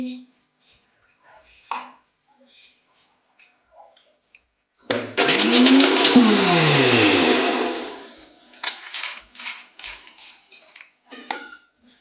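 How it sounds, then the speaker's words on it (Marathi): A mixer grinder grinding coconut with cumin, running loudly for about three seconds with a rising whine, set between quiet kitchen clicks and knocks. "तर आता एक खोबरे संग थोडं जिरं बारीक करून घेते."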